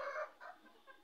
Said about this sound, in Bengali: এই দেখুন, মুরগি ডিম পাড়ার জন্য তাওয়াতে বসে আছে।